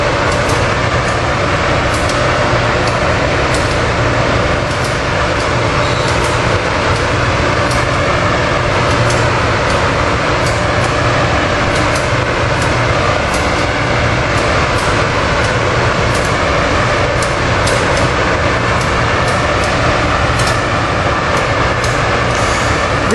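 AM7 engine 935 pushes a commuter train toward Harrisburg, a loud, continuous rumble and clatter of rail cars rolling close by, steady throughout.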